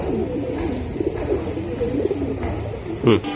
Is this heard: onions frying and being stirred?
no